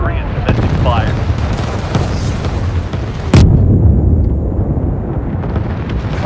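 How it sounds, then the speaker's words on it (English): Artillery fire in the video game World War 3, a continuous rumbling barrage with a sharp loud blast about halfway through, all under busy battlefield noise and a talking voice. "Our artillery is commencing fire."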